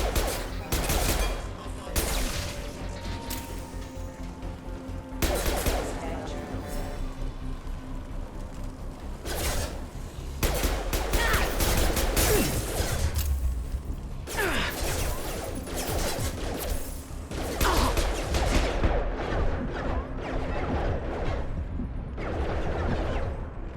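Sustained gunfire in the video game Mass Effect 2, Legendary Edition on Insanity difficulty, as security mechs close in: dense bursts and volleys of shots with crashing impacts, loud throughout, with brief game voice lines between.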